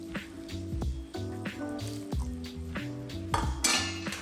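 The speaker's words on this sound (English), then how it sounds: "And stir it in, let it absorb." Risotto rice being stirred with stock in a pot, a spoon scraping and clinking against the pan in a steady rhythm with light sizzling underneath, close and moderately loud with no talk.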